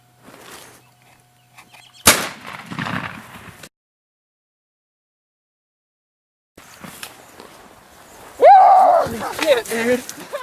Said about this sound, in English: And then Justin ended up shooting him.